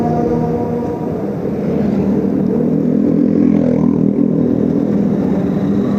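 A Yamaha Byson motorcycle engine runs with a loud, steady low drone and a slight rise in the middle, heard close and alone for several seconds.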